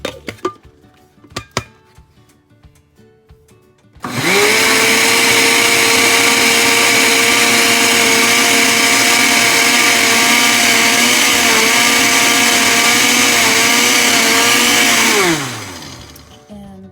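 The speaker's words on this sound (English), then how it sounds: "I'm going to blend it just a little bit more" A kitchen blender whirs loudly and steadily for about eleven seconds, blending vegan plantain porridge, then spins down to a stop after a few quiet moments of faint clatter at the start.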